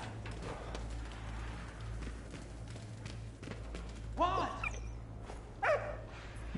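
A dog barks in the World War I video game Valiant Hearts, giving two short bursts of loud, nearby barks over a steady low game hum.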